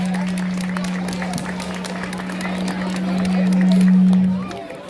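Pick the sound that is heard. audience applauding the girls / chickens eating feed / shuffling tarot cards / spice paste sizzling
audience applauding the girls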